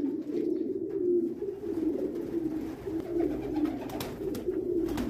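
Young meat pigeons on a pigeon farm coo steadily in low, throaty rolls, several birds overlapping in a continuous murmur, close by with no talking.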